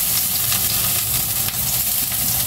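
Star anise hits hot oil in a frying pan while cooking plum pork ribs, giving a loud, steady sizzle with crackling throughout.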